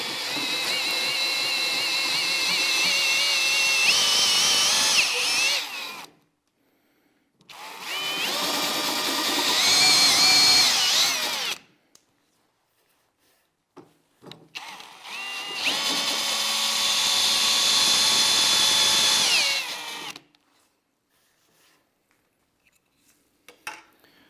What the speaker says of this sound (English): I'm going to leave the drill in the high torque mode, which is going to be speed 1, and I'm going to let it cut until it bottoms out